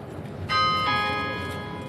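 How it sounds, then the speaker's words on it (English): A single clock bell strikes the half hour clearly, leaving a long ringing tone that slowly fades over faint background noise, at Horse Guards in London. "That's the bell for 3:30."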